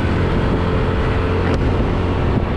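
A vehicle engine runs steadily just after starting, a loud, close, continuous low rumble with no voices, on a road after a typhoon.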